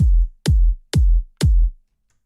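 Four heavy, distorted techno kick drum hits in steady rhythm, booming and aggressive, then silence.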